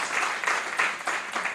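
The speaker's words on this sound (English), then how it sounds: "Another round of applause, please, for our PDG" Applause from an audience at a mentorship talk event, a steady mid-volume wash of clapping with slight swells, continuing without pause and no speech over it.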